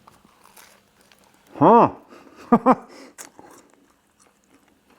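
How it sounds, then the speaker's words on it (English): Crunchy pastry toasted in a BALMUDA toaster bitten close up: one loud crisp crunch followed by two quick sharper bites, with faint rustling and a brief spoken question nearby. "there's an audible crunch on this one"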